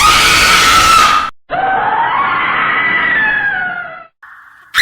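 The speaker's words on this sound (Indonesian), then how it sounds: "Tiba-tiba jeritan melengking terdengar," A shrill, piercing woman's scream rings out as a horror-story sound effect, loud and drawn out with wavering pitch, breaking off briefly before resuming and ending on a short tone.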